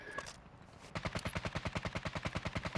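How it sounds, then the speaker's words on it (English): Rapid automatic gunfire from Call of Duty: Modern Warfare II, a steady burst of evenly spaced loud shots running for about two seconds after a brief quieter lead-in of game ambience. "He's sniping."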